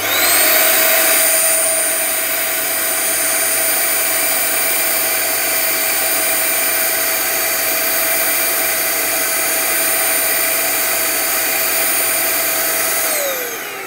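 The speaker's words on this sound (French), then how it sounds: "J'ai un aspirateur de 800 watts, j'espère que ça va pas trop faire de bruit." An 800-watt vacuum cleaner powered by an AFERIY P201 portable battery station runs steadily with a loud whining motor hum, starting up at the beginning and cutting off near the end, with no voices.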